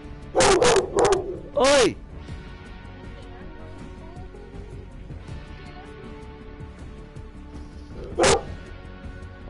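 A pet dog barks in a home during a Fortnite session, several loud close yaps in a quick burst, then one more bark after a quieter stretch, with a person talking in between.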